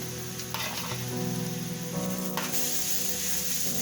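A utensil stirs Spanish paprika and grated carrot through a hot frying pan, with a continuous loud sizzle, close scraping strokes and a faint background hum, no talking.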